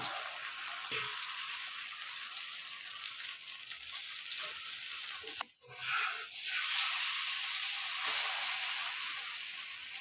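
Omelette batter for burgers frying on a hot oiled griddle, a steady soft sizzle running throughout with a brief clatter partway through.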